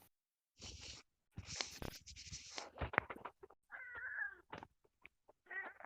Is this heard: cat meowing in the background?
yes